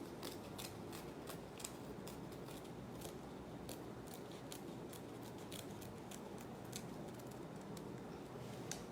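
Scissors snip through a sheet of dried seaweed to cut a strip, a quick series of crisp, close clicks repeated at an uneven rhythm over a quiet room.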